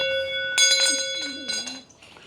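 Small animal bells ring out in a few bright, shimmering strikes, their sustained metallic tones layered over a steady background hum, while a voice talks through the ringing.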